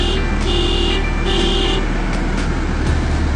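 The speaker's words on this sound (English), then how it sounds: "I'm going to show you what this horn sounds like." A 2016 school bus horn sounds in repeated short blasts of a thin, high tone, with steady engine and road noise running beneath.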